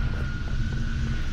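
A Covenant Phantom dropship in Halo 3 ODST passing overhead, a loud continuous low engine rumble with a steady droning whine above it, close and alone for a short moment.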